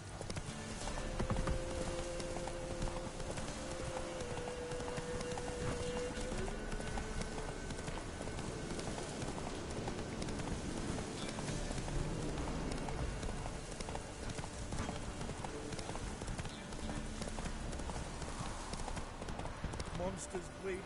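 A horse gallops in The Witcher 3, hooves drumming in a fast, steady clip-clop that runs continuously and close under spoken dialogue and game sounds.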